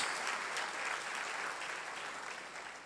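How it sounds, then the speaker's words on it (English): A large hall of chartered accountants at a members' meet gives a big round of applause to welcome the chief minister, dense and continuous clapping that stays loud and slowly eases off. "Let's give him a big round of applause and welcome him in the community of Chartered Accountants."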